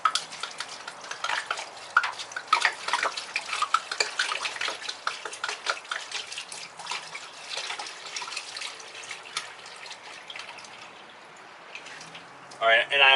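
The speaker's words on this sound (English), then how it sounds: "We got some more of our dechlorinated water." Dechlorinated water pours into a Marineland aquarium filter with a continuous splashing, gurgling wash that stays fairly even throughout and eases off near the end.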